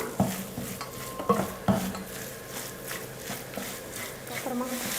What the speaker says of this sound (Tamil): எல்லாத்தையும் சேர்த்துட்டு நல்லா கலந்து கொடுத்துக்கலாம்.